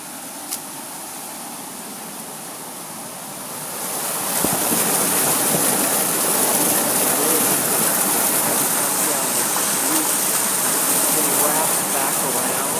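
Creek water pours into the Willamette River where the currents converge, a broad, continuous rushing wash that swells louder after a few seconds and stays steady and close.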